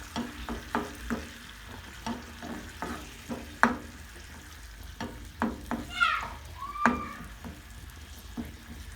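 Eggplant chutney cooking with yogurt in a pan, a low sizzle broken by repeated clinks and scrapes of a stirring spoon at an irregular pace, close by, with a brief voice-like sound partway through.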